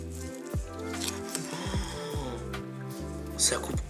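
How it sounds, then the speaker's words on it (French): A knife slices through a cooked wagyu beef steak with soft, squishy cuts repeating in a slow rhythm, close up and fairly quiet. "Ça coupe comme dans du petit beurre."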